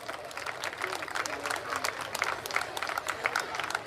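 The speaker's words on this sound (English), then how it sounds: "They all need a better applaud than the one which we are hearing from the audience." Audience applause at a school annual prize day, a dense steady patter of many hands clapping through the whole stretch, moderately loud, with faint crowd murmur underneath.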